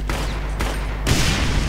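Gunfire in the video game Brutal Doom, a loud, dense burst of shots that stops briefly and then returns even heavier, with no voices.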